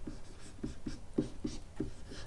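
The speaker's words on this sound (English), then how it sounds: "Actually, let me write this a little higher." A marker or chalk scratches quick strokes on a board during a precalculus lesson, a quiet, close series of short taps and scrapes with small gaps between them.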